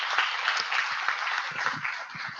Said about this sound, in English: Let's give the Texas team a round of applause for the work they did to put all that together